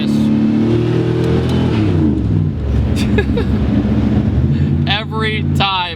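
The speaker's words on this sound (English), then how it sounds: "Every time the car shifts in auto or whatever you want to do, it chirps a gear, no matter what." A 1980s-style Pontiac Firebird Trans Am accelerates hard, its engine note climbing in pitch and dropping through gear changes, with a short chirp at the shift and someone speaking over the engine noise.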